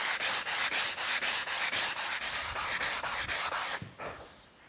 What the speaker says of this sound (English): So I will continue to rasp and clean up this fillet on this side